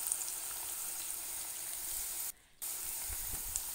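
Onions for kanda bhaji frying on a high flame give a steady, fairly quiet hiss and sizzle that runs without a break, apart from one short dropout partway through.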